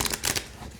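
Llewellyn mermaid tarot card deck shuffled by hand, a short burst of soft riffling card noise with a sharper flutter at the end, close and alone without talk.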